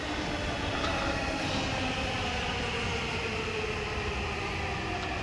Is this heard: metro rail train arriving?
yes